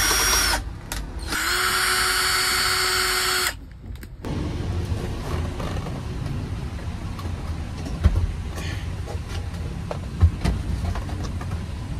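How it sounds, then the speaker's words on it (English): A power tool drives a screw into a dashboard console being fitted in a fire truck cockpit, with a loud, steady high whine for a few seconds that cuts off into quieter workshop handling noise and a few knocks. "Install that screw right there"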